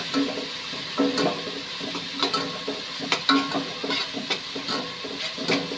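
Onions, ginger and garlic fry in a pan for chicken gravy, a steady close sizzle and hiss with repeated scraping stirs of a spoon against the pan at an uneven rhythm, no talking.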